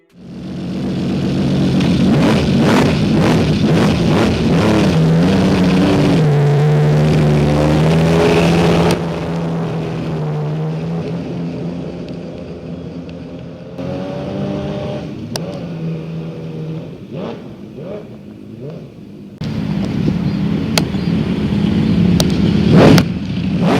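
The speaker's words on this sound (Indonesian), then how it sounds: "CBX bermesin V12 yang jika ditotal mempunyai kapasitas 2094 cc ini, mempunyai performa yang powerful, berikut menghasilkan suara knalpot yang menggelegar" A custom Honda CBX cafe racer with a 2094 cc V12 engine roars loudly through its exhaust. It holds a steady, powerful drone with rising revs, drops back briefly, then swells again, up close and with no talk over it.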